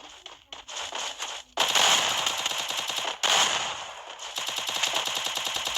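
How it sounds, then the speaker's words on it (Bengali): Rapid bursts of automatic gunfire from the mobile battle royale game Free Fire, played in a 1v2 custom match, crackling loud and close in several clustered volleys with brief gaps between them. "এই জায়গায় কিন্তু একটা হেডশট দিই"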